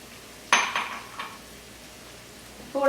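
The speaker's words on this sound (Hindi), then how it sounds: "ये हमारा हो चुका है ऑयल के साथ जिंजर और garlic, and I am adding the chicken stock 2 tablespoon now" Two tablespoons of chicken stock poured into ginger and garlic frying in oil: one sharp clattering hiss that quickly fades, a quiet stretch, then another close clink of pan or utensil at the end.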